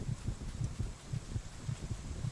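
A steady, low heartbeat in the Roblox game Survive the Night thuds in a regular double-beat rhythm, about four cycles, over a faint hiss with no voices.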